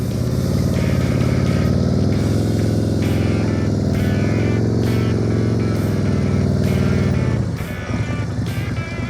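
Motorcycle engine held at steady throttle during a riding practice session, a loud, sustained buzzing drone close by for several seconds before dropping off near the end.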